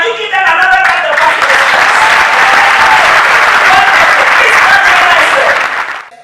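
An audience at a youth entrepreneurship summit panel gives a loud, full round of applause. The dense, sustained clapping holds steady throughout and fades only at the very end.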